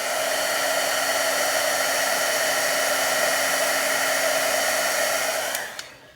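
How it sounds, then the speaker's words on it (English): A heat gun runs at paper-crafting work on embossing powder, giving a loud, steady whirring hiss with a constant pitch that cuts off abruptly near the end, followed by a brief click. "This is a heat gun. It emits heat. It doesn't blow air."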